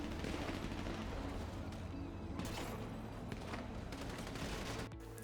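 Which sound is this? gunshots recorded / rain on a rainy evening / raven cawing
gunshots recorded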